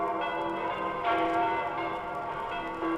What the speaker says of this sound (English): gotta get out of the way of the sound waves of those bells